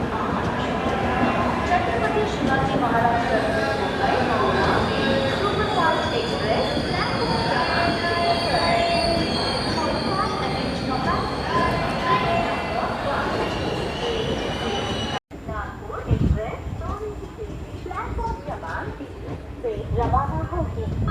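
Kolhapur–Nagpur Express 11404 pulling out of Akola Junction in India, heard as a loud, steady rolling rumble with rail clatter that runs continuously and then abruptly shifts to a thinner, quieter tone after about fifteen seconds.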